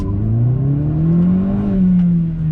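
An Opel Astra OPC with 180 hp pulls hard from a standstill, its engine note climbing steadily and loudly close up in one continuous surge.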